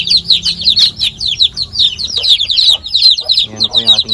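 Chicks peeping rapidly and continuously at a poultry farm, close and loud, with a few low clucks from adult chickens mixed in near the end.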